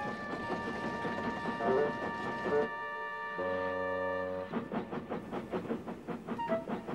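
A steam engine works through a shunting move with railway cars, giving rhythmic chuffing and clanking, a brief steady whistle-like tone in the middle, then more repeated chuffs and knocks.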